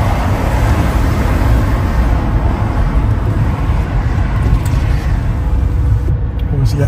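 Heavy road traffic in Chicago rumbles as a dense, continuous wash of engine and tyre noise, loud and steady throughout with no breaks between vehicles.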